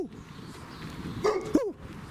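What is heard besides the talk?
dog barking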